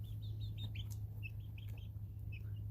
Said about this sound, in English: all of these guys right here are chickens